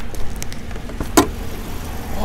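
A 2011 Dodge Charger R/T with a 5.7 liter V8 Hemi gives a steady low engine rumble close by, with a brief sharper burst midway and no talking over it.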